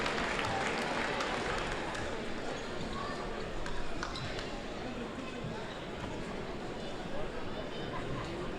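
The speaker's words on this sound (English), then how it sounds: "A round of applause for athletic director Bob Salento." A crowd applauds at a high school basketball tournament in a gym in Lewes, Delaware, sustained clapping filling the room at an even level with a voice over a loudspeaker.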